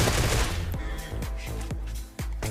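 Rapid bursts of gunfire in BGMI (PUBG Mobile), loud and close, with several sharp shots spaced a half second or so apart over a dense, busy background.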